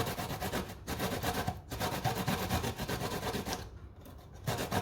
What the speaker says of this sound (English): So I'll just grate the ginger.